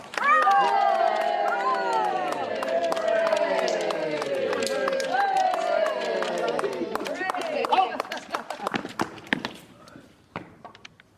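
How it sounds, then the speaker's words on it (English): A crowd at a community theatre performance cheers and claps loudly to greet arriving soldiers, a sustained roar of mixed voices that fades into scattered claps and thuds. "Big cheer"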